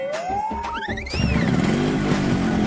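A new motorbike pulls up and stops in front of a roadside tea stall, its engine rising with a whistling sweep and then settling into a steady, close, loud rumble. Nobody speaks.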